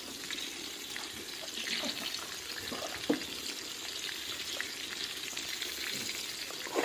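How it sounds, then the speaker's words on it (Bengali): Potatoes fry in hot mustard oil in a kadai, giving a dense, continuous sizzle close up, with a few soft stirring knocks under it. "মাংসের জন্য আলু ভেজে নিচ্ছি"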